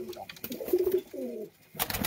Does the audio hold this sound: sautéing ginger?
no